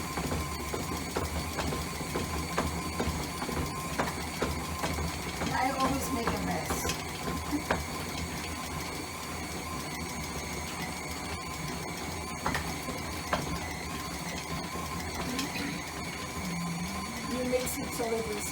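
Electric mixer churning thick Linzer cookie dough, a steady whirring drone with a strained, washing-machine-like labouring quality that runs continuously throughout, close and fairly loud, with faint kitchen talk underneath.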